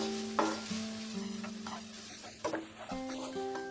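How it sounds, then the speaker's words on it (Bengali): Dry masala Maggi noodles with egg are stirred and fried over a medium flame, soft sizzling under repeated scraping strokes of a spatula in the pan, close and fairly quiet, with no voices. "সবকিছুকে মিশিয়ে নিয়ে নাড়তে নাড়তে আমরা আরো 2 মিনিট এটাকে রান্না করব"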